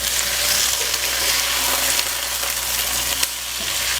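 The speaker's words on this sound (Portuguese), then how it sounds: "Quando ele estiver assim já, ó, ficando meio douradinho, você joga o tomate e o talinho de coentro." Onions frying in a pan until golden, with tomato and coriander stalks added, give a steady, close, dense sizzle that runs without a break and has no voices over it.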